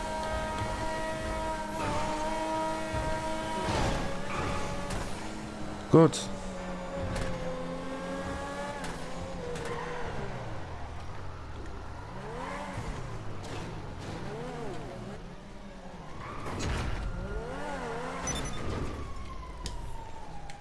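A Grotti X80 sports car in GTA Online accelerates and shifts, its engine rising and falling in pitch through repeated revs with a brief loud knock, while a siren-like wail sweeps in later and a voice speaks once briefly.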